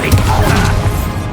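The Incendio fire spell is cast in Hogwarts Legacy with a loud, brief whooshing burst and crackle that fills the moment, with no pause in it.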